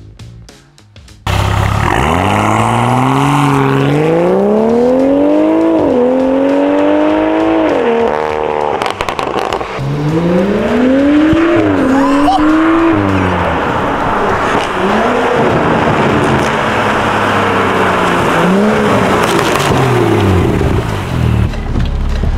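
A Citroën Saxo car engine revs hard and repeatedly close by on a street, climbing and dropping in pitch with a loud, throaty roar that continues throughout.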